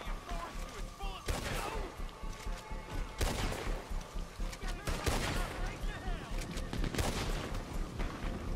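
Bursts of machine gun fire in the western video game Red Dead Online, repeated rapid volleys with heavier shots at intervals, loud and dense throughout, with speech mixed in.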